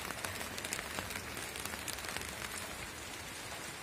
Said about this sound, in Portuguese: olha o barulho da chuva caindo no telhado